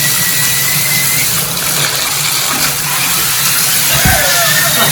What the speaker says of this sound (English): Lots of noise, lots of water coming out of it.